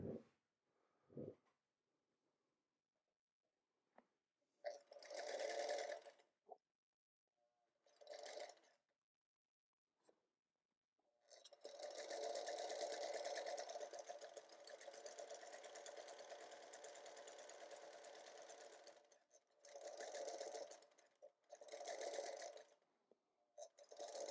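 A sewing machine stitches quilt patches in bursts, a buzzing whir starting and stopping several times with one long continuous run in the middle, close and clear with quiet pauses between.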